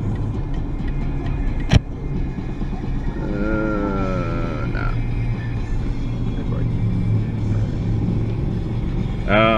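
Interior engine and road noise of a car on a road trip to Victor Harbor, a steady low drone throughout with a sharp click early on and a person talking over it.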